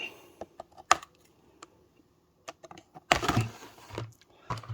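Scissors snip open the plastic packaging of a Jurassic World Dominion Dilophosaurus toy: scattered sharp, close clicks and snips, then a louder burst of crinkling plastic and a few more cuts, with no talking.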